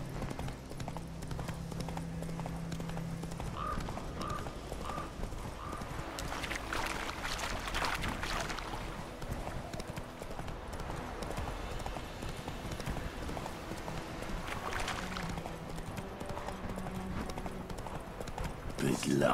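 Horse hooves clip-clopping in The Witcher game, a steady rhythmic gait running through the whole stretch alongside game music and effects, with someone talking over it.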